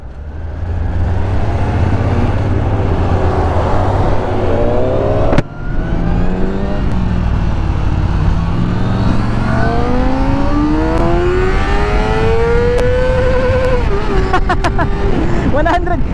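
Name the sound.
car accelerating in first gear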